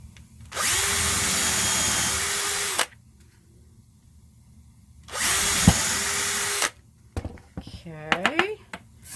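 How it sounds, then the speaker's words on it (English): A small handheld power drill whirs in two steady bursts of a few seconds each, boring holes into a block of wood for a hanger during a mermaid craft project, followed by light clicks and handling noises. "the next thing I'm going to do here is just bring out my little power drill."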